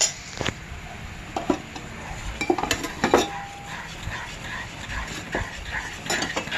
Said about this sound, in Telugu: ఈ చక్కెర పాకాన్ని ఈ విధంగా వేసుకుంటూ కలుపుకోవాలి